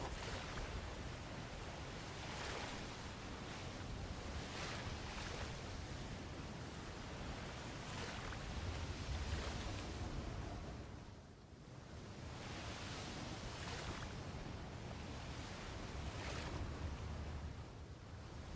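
Ocean waves in a video game, a steady wash of surf with wind, rising and falling in broad swells at moderate distance, no voices.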